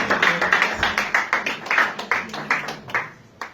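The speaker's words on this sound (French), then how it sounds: "On va encore applaudir s'il vous plaît pour l'encourager." Audience at a testimony by a survivor of gender-based violence claps in steady rhythmic unison, sharp regular beats close and fairly loud, tapering slightly at the end.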